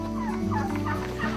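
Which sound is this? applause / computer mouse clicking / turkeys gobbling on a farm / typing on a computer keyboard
turkeys gobbling on a farm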